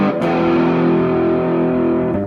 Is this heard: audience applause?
no